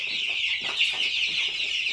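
A brooder of baby chicks, a mix of meat birds and brown layer pullets, peeps and chirps in a dense, continuous chorus close by, with no talking.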